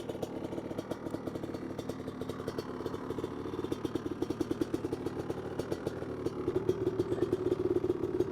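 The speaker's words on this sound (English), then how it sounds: "We'll baby it, is what I'm saying. And then I'll check the plug. Hopefully we're running good. Get a load on that engine." A 1985 Honda 250R engine runs under load with a fast, even putter, fairly quiet and close, slowly growing stronger and more steady toward the end, with no one talking.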